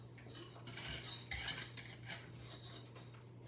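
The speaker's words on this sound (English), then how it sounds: "I want to whisk in 4 cups of cold milk" A whisk clinks rapidly against the sides of a metal bowl while cold milk is beaten into a pie filling mixture, the scraping and tapping steady and close.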